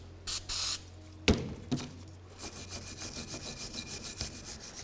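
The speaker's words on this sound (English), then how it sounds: "I'm going to spray them down and clean them with the wire brush" Aerosol cleaner hisses in two short bursts onto front brake caliper brackets of a 2005-2016 Toyota RAV4, then a wire brush scrubs the metal with a clank and quick, rhythmic rasping strokes up close.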